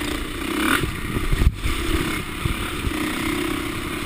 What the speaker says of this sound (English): First set of dirt bikes I've seen.